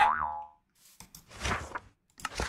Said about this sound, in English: Got boing.